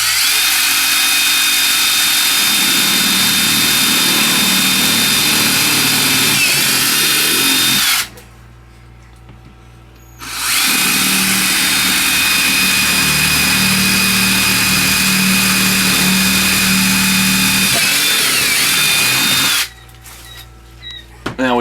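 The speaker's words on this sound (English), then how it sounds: "So I'm going to go ahead and drill the other 3 holes." A power drill bores holes in plastic for poultry waterer nipples, running in two long loud bursts separated by a pause, with a short third burst at the end.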